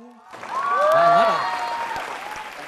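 Audience applause for a singer on a Vietnamese singing competition show, a dense crowd clapping that swells to a peak and then holds steady, with a voice over it and a brief tone at the start.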